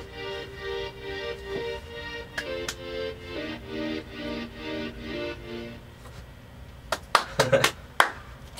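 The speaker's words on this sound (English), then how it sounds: "golf claps in the studio" Soft golf claps sound in a radio studio: a few sparse, light hand claps near the end, after a stretch of low tonal music and murmuring.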